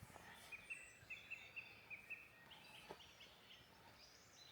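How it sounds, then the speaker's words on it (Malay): Birds chirp in a series of short, faint calls from a distance in quiet woodland near Lillafüred, Hungary, with soft ambient background and no talking. "Tapi sambil tu kan cuba korang dengar bunyi burung."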